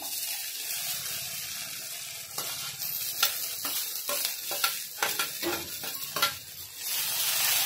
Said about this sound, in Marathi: इथे आता भेंडी टाकून घेऊया।